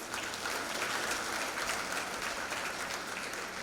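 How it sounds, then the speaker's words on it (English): Audience at a university graduation ceremony applauds a graduate, a steady, moderately distant patter of many hands clapping evenly for a few seconds with no voices over it. "Let us applaud the graduate, please."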